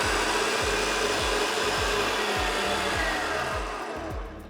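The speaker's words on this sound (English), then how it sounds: "Now we're going to really whisk up those egg whites so they get super fluffy, almost like a cloud." An electric mixer whirs loudly and steadily as it whips egg whites to soft-medium peaks for a no-bake keto chocolate cake, with rhythmic pulsing dips in the motor drone as the beaters circle the bowl, fading slightly at the end.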